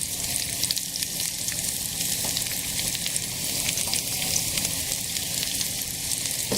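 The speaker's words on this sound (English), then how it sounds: "now these veggies are making too much noise, so just stir them" Vegetables and sliced mushrooms sautéing in a pan for veggie tacos make a steady, close crackling sizzle with fine popping spatters throughout, with no one talking over it.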